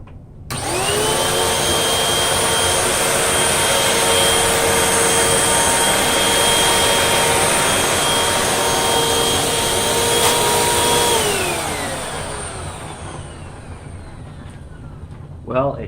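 A Hoover Windtunnel 2 upright vacuum cleaner set for medium pile carpet, cleaning along a carpet edge: a loud steady whine and motor roar running for about eleven seconds, then winding down as the motor shuts off.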